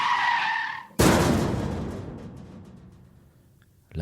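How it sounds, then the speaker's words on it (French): Car skid and crash sound effect: a tire squeal ends in a sudden loud impact, and the crunching debris then decays slowly into near silence. "La peur lui fit tourner le volant de sa voiture qui heurta un mur"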